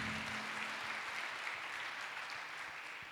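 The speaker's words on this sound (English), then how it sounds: "Clap your hands for Jesus." A church congregation claps together in steady, continuous applause that stays even in loudness from start to finish, with no voices standing out.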